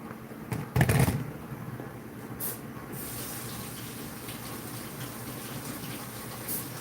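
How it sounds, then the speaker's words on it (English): Running tap water during handwashing in a home kitchen, a steady broadband wash with a brief louder splash near the start, continuing evenly throughout with no talk. "Let me wash my hands."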